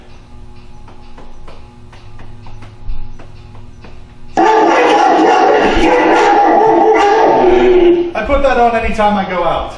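A recording of dog barking, played in a city apartment to deter burglars, comes in loud and howling after a quiet stretch, with a person speaking over the start.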